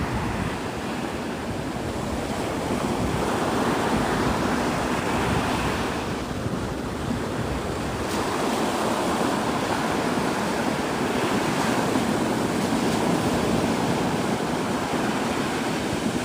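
Ocean surf washing steadily onto a shoreline, a continuous broadband roar of breaking waves with some wind buffeting the microphone, no voices.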